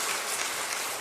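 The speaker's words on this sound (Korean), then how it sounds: "힘차게 한번 박수 한번 쳐드립시다" A church congregation breaks into a brief burst of clapping, a dense, even patter of many hands close by.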